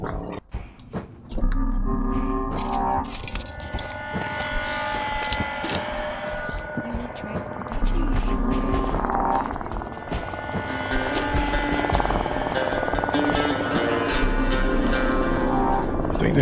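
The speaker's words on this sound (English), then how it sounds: "I think the helicopters are out here now, making sure that we're staying on top of our job." A helicopter flies over a mountain trail with a continuous loud rumbling drone that holds steady for many seconds, with people talking underneath.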